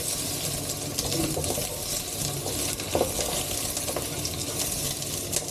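Onion, garlic and ginger sauté in hot oil, giving a steady, dense sizzle with light stirring scrapes throughout and one sharper clatter midway, close and fairly loud.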